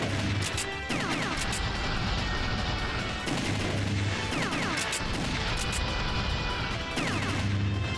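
Rapid gunshots in the arcade game The House of the Dead 2, loud bursts of blasts and impacts repeating in clusters over a dense, continuous game soundscape, with no pauses between volleys.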